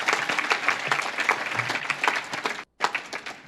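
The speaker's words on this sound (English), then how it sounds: "Yeah, let's keep on cheering." A crowd at the grand opening of the Roy Blunt NextGen Precision Health building applauds and cheers for Senator Roy Blunt, dense sustained clapping that cuts off briefly to near silence before resuming.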